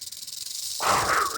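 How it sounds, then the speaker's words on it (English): A diamondback rattlesnake hisses in the wild on a spring hike, a sudden loud breathy burst that starts partway through and holds steady over faint background noise. "He's hissing like a pine snake."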